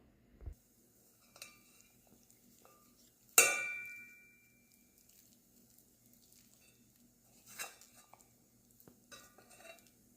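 A spoon mixes onion bhaji batter with a few spoonfuls of oil in a bowl. Sparse soft scrapes and clinks are broken by one sharp, ringing metallic clank, with long quiet gaps between.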